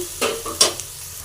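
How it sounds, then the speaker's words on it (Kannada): Egg bhurji ingredients frying in oil in a pan, a brief close sizzle with two or three quick stirring scrapes. "ನೋಡಿ, ಈ ಥರ ಫ್ರೈ ಆಗ್ತಾ ಇದೆ ಅಲ್ವಾ?"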